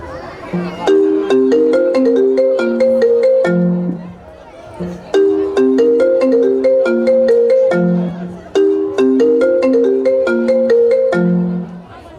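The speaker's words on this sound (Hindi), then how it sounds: "अभी फोन लगाता हूँ" Phone ringtone playing a repeated melodic tune while a call is being placed, three full cycles of the bright chiming phrase separated by short gaps, loud and close.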